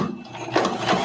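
A home sewing machine stitches a zipper onto a boxy fabric bag, a brief mechanical whir building into louder rapid stitching bursts, close and alone.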